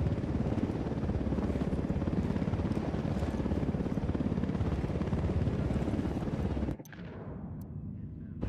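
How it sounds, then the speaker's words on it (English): A helicopter in the video game Ghost Recon Wildlands passes close overhead with a loud, continuous rotor roar that cuts off sharply near the end, leaving a quieter rumble behind. "Helicopter, get down."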